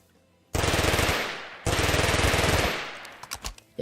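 Rapid automatic fire from a machine pistol in the Minecraft TaC gun mod, two long loud bursts of rattling shots separated by a brief gap, then a few scattered trailing shots.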